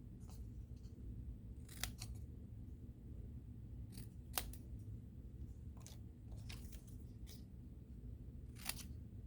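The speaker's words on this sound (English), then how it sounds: "we are just going to take a pair of scissors" A few crisp scissor snips, sparse and irregular, close up against a low steady hum in the background.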